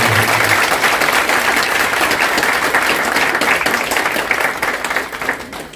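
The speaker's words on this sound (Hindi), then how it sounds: "इसलिए हम जोरदार ताली बजाते हैं।" Sustained, dense applause from an audience at a spiritual class led by BK Sooraj Bhai, loud and steady throughout before thinning slightly toward the end.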